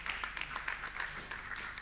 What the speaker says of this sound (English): A round of applause for Jasper SME Hub